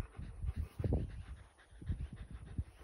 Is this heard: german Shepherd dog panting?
yes